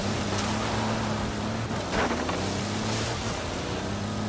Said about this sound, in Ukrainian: по воді вона хорошо їде, прям быстро